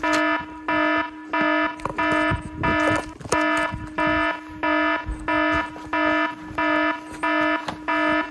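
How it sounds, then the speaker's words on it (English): A loud electronic alarm beeps in a steady repeating pattern, about one pulse per second, harsh and close with rustling underneath, at an abandoned railway. "I felt like a freaking alarm going off then"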